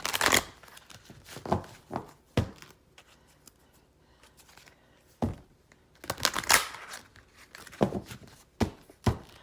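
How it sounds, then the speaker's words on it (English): Tarot cards being shuffled in quick riffling bursts separated by short pauses, close and fairly crisp, with no voices. "Now, you see me shuffling."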